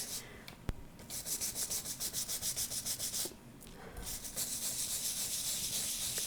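A photopolymer stamp plate rubbed firmly in circular strokes, giving a steady scrubbing rasp that pulses in rapid regular waves, pauses briefly, then resumes as a continuous close abrasive rub with no talk.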